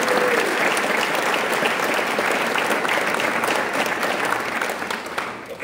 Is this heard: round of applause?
yes